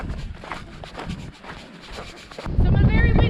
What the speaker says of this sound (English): So I'm in a very windy spot right here.